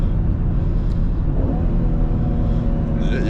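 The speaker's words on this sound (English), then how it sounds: "downshift kind of sound good" A car downshifts through paddle shifters, the engine note rising and falling as revs climb, heard from inside the cabin as a steady close rumble with a brief whir toward the end.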